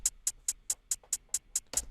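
A hi-hat fill programmed at 140 BPM in FL Studio gives nine crisp, evenly spaced ticks with a slightly fuller hit at the end, quiet and dry, alone.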